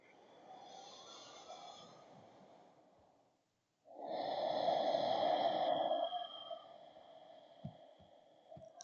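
During yoga practice, a slow, deep breath is heard up close: a long airy exhale, then a brief pause, then a fuller, louder breath that trails off into a few soft clicks.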